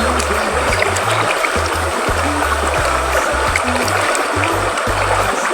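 Steady running water pours and splashes continuously, with occasional low knocks and bumps underneath, as if something is being rinsed under a tap.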